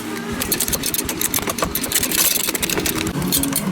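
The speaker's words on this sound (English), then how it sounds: "So you can just use a 8mm combination wrench, ratcheting, and then you can easily get that off." An 8mm ratcheting combination wrench loosens a radiator support bracket on a DeLorean, its rapid, close ratchet clicks running continuously over a low background hum.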